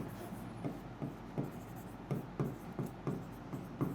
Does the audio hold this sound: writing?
yes